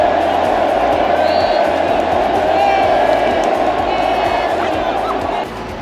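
A packed stadium crowd at a Copa America match roars and cheers after Julián Álvarez scores, a loud, sustained wall of voices with shouts and whoops rising out of it before easing slightly at the end.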